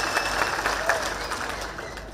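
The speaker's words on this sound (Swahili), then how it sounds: "Makofi kwa waheshimiwa wote." An audience applauds the honourable members at a Kenyan public gathering, a soft, spread-out clapping that fades over two seconds while a voice carries on over it.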